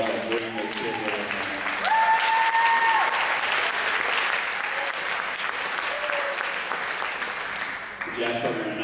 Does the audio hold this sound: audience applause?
yes